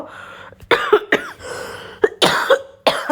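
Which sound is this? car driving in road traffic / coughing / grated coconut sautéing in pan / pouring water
coughing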